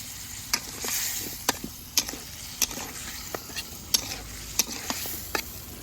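Taro root stir-fried in spice paste in a pan: steady sizzling frying with sharp, regular spatula scrapes and taps roughly every half second, close and clear with no talk.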